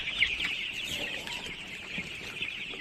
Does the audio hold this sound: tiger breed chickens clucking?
yes